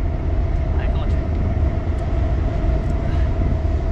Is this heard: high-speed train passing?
yes